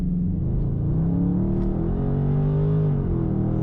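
Engine of a 2020 Dodge Charger Scat Pack while driving: a steady, loud low rumble with a slight rise and fall in pitch, continuous throughout with no talking.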